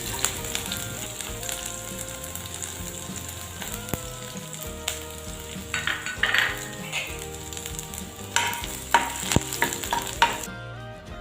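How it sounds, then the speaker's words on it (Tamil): Garlic fries in oil for a Chennai street-food egg bhejo, a dense, close sizzle running steadily with scattered small pops and faint utensil clinks, no speech. "பூண்டை வந்து இதே மாதிரி நல்லா பொரிச்சு எடுத்துக்கலாம்"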